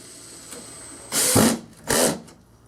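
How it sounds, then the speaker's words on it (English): A power driver sends pan head screws in while fitting flap stays on a hamper door, giving two short, close whirring bursts separated by a brief pause. "I'm going to use the pan head screws that come with it"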